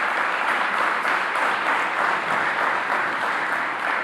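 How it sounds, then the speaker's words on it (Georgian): An audience at a reopened youth palace claps in sustained, dense applause, steady and fairly loud for the whole stretch with no pauses. "მინდა ცალკე აპლოდისმენტები გულიდან მომავალი მას"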